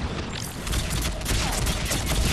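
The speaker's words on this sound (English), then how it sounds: "You have all these like explosions going off around you." Dense, continuous gunfire and blasts crackle and boom around the player in a sci-fi shooter battle in a ruined city, loud and close with no pauses.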